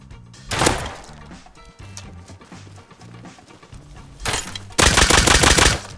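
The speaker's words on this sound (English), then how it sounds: "This guy's got a pistol." Gunfire in a first-person video game where an opponent carries a pistol: a loud shot near the start, then a quieter stretch of clatter, and a dense, loud volley of rapid shots toward the end.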